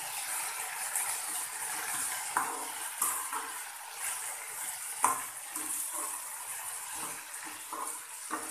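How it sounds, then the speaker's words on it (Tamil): Mint leaves sautéing in a pan for a pudina chutney: a soft, even sizzle with occasional light taps and scrapes of stirring, fairly quiet and steady throughout. "புதினா ரொம்ப வதக்கக்கூடாது ஒரு அளவு ஒரு வதக்கு வதக்கினா போதும்"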